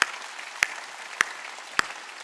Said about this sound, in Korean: 박수 치려면 세게 쳐.